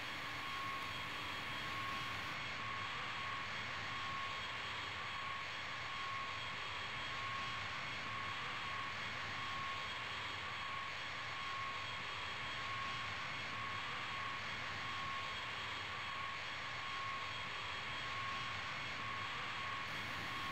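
Steady, even roar of B-52D bomber jet engines on landing approach in the Strike Fighters 2 flight game, with gear down, a constant drone with no voices.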